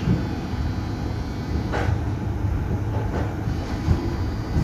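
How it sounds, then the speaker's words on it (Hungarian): Old Hannover tram number 62 running, a steady rumbling rail roll with faint clicks and rattles from inside the car, no talking. "Ez a 62 a villamos."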